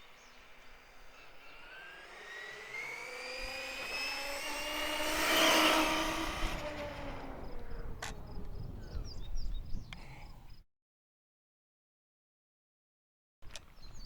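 High-pitched whine of a brushless Traxxas Summit RC truck on 4S/6S LiPo, rising as it accelerates on throttle outdoors, peaking loud around the middle, then fading before a brief silence.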